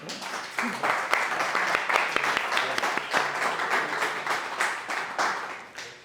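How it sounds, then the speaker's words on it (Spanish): Audience members at a comic book presentation applaud, giving a fairly quiet round of clapping with distinct individual claps audible, steady throughout and fading at the close. "Un aplauso, por favor"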